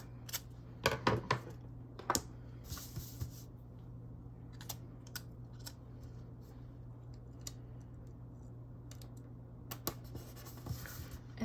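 Scissors cutting printable sticker paper make scattered crisp snips and paper rustles, close and quiet, over a constant low electrical hum with brief pauses between cuts.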